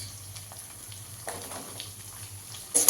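Chopped onions fry in a pan with a soft, continuous sizzle and light stirring scrapes, then a louder rush of sizzling right at the end.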